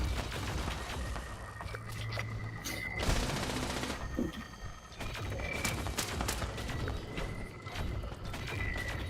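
Gunfire in Fallout 76 as critters are shot down, fairly quiet but dense, with rapid overlapping shots and mechanical clatter running throughout against a busy game background.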